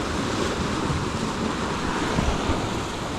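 Big ocean waves crash and churn against a pier at Redondo Beach, a steady, loud roar of surf with wind buffeting the microphone throughout and no break in the wash.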